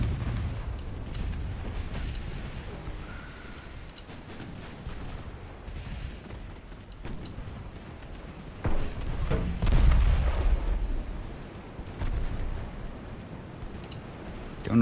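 Warship guns boom in Ultimate Admiral: Dreadnoughts in an 1890 naval battle, deep rumbling blasts that swell loudest near the middle, over a low steady background.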